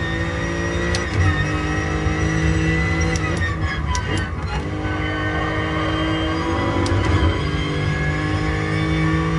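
A Lexus race car in the Gran Turismo Sport racing game holds a loud, steady engine drone during a 15-minute endurance race, its pitch shifting slightly with brief gear-change blips and faint clicks, close and continuous throughout.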